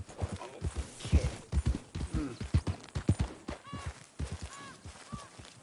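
Horse hooves clip-clop in a PS4 game, with a quick uneven rhythm of hoofbeats close by and a faint whinny near the end.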